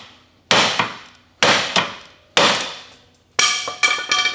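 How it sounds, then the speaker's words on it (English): A hammer strikes a steel steering knuckle on a Subaru BRZ four times, each hit a loud metallic whack followed by quick rebounds and ringing, evenly spaced about a second apart with the last blow ringing longest. "pry bar, and then whack the knuckle."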